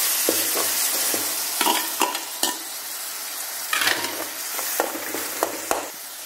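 Coarsely ground tomato frying in a pan for mushroom thokku, a bright hissing sizzle with repeated close scrapes and knocks of a spoon stirring through the mixture.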